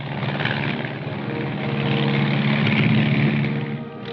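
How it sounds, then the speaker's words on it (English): An L-19 observation plane, a propeller aircraft, drones steadily with a loud continuous engine and propeller roar throughout, no voices. "the L-19, a standard observation plane"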